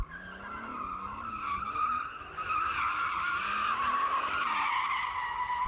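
A BMW M8 drifts with tires skidding and squealing continuously, loud and close, while the engine note rises and falls beneath the screech.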